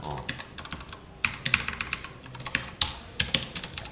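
Close, busy clatter of a computer keyboard as code is typed during a Python lesson, quick irregular keystrokes with a few louder bursts, no voice over it.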